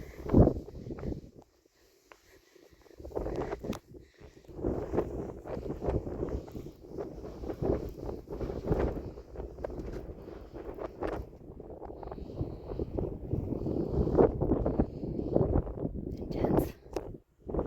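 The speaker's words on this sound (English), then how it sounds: "The wind is blowing hard." Strong wind buffets the microphone on a cliff edge at Mesa Verde National Park, rushing and gusting almost without pause and loud and close throughout, with a brief lull near the start.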